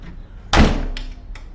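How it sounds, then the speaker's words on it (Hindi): A washroom door slams shut with a single loud, close thud, followed by a brief faint rattle as the sound dies away. "वॉशरूम का दरवाजा थोड़ा आराम से बंद किया करो"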